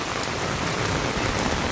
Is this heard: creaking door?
no